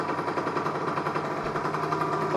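A Derby AM6 moped engine, brought to life by its kick starter, runs steadily with a fast, buzzing pulse held at an even, fairly loud level throughout.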